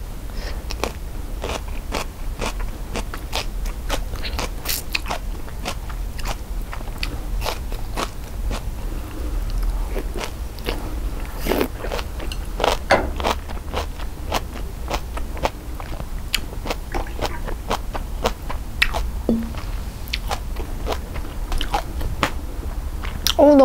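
Someone eats ramen with kimchi up close: repeated crunchy bites and moist chewing run continuously, with no talking.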